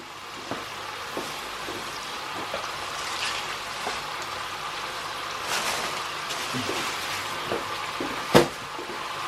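Chips frying in a pan give a steady, soft sizzle and crackle throughout, with a few sharper pops and one louder snap near the end.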